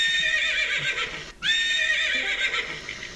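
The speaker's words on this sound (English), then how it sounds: "What is the horse noise?" A horse whinnies loudly and shrilly, breaks off for a moment, then lets out a second long, wavering neigh, close and clear with no talking.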